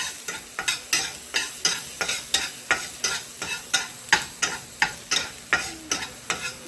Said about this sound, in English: We're gonna fry the garlic and the onions, the green onions.